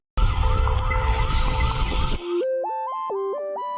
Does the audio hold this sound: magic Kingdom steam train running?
no